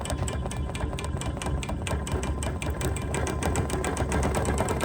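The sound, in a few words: sewing machine stippling a quilt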